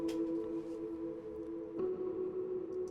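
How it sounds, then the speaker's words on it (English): Electric guitar harmonics on the root notes of chords ring out drenched in massive reverb, forming a soft sustained wash with a fresh chime near the middle, alone with no talking. "he's kind of playing the harmonics of the root notes of the chords."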